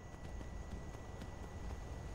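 Horse hooves clip-clop in the video game Skyrim, a quiet, regular trotting beat of soft hoof falls over a low ambient rumble.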